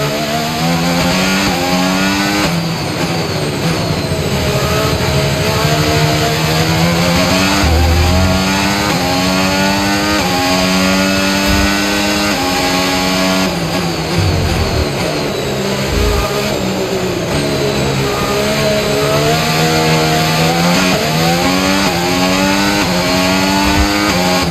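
A Formula 1 car engine screams through a lap of the Dutch Grand Prix in F1 25, loud and constant, with the pitch climbing through each gear, dropping on upshifts and dipping under braking for corners.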